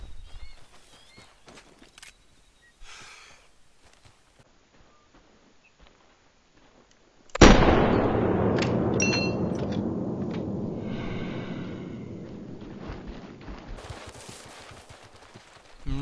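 A single sharp, loud rifle shot in a hunting video game, fired without a scope, cracks out and rings into a long decaying echo, preceded by faint clicks and rustles and followed by dwindling reverberation.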